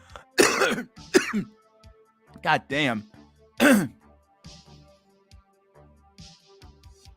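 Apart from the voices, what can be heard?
coughing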